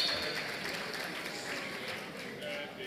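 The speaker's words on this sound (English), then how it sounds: "A round of applause." A crowd applauds at a 70th birthday celebration for Bishop Matthew Hassan Kukah, right after a cake-cutting countdown: steady, dense clapping fills the whole stretch at moderate loudness with voices mixed in.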